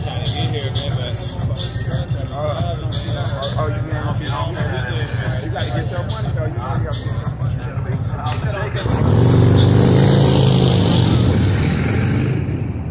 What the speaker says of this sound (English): Let these motorcycles pass